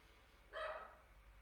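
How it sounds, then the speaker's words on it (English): A Shih Tzu gives one short, faint bark in a quiet room, sounding slightly distant. "That's my dog barking."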